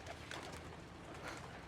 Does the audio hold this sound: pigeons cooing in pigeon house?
yes